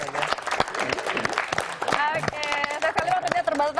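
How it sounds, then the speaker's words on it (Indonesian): Studio audience applauding Fadli Zon at the close of an interview, a run of sharp claps over a steady crowd wash, with a voice or music tone sliding through the second half. "tepuk tangan dong buat Fadli"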